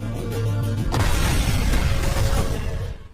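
A bomb blast in an action film about a police gang, a heavy booming explosion with a sharp burst and rumbling debris that swells and then fades.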